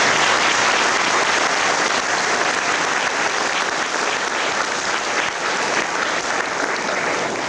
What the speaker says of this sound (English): So I think they need a round of applause for that.